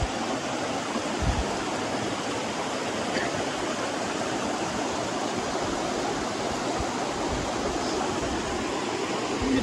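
Flowing water of a stream, a steady broad rushing wash that stays loud and even throughout.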